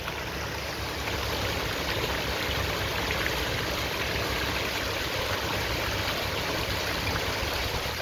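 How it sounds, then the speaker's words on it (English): A water fountain near Bridgetown, Barbados, splashes continuously, a steady, even rush of falling water filling the whole moment with no pauses or voices. "This fountain has been here for so many years. This water fountain."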